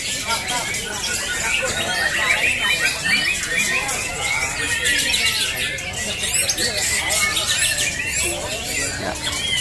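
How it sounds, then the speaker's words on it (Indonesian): Many white-rumped shamas chirp and trill loudly at once during a bird-song contest, a dense, busy chorus of overlapping calls with no pauses. "Pertarungan burung murai batu."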